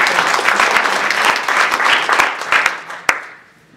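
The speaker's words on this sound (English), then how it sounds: "I think that's a good time for an applause for it." Audience at a panel discussion applauding, a full round of clapping with scattered sharp claps that fades out toward the end, with one loud clap near the close.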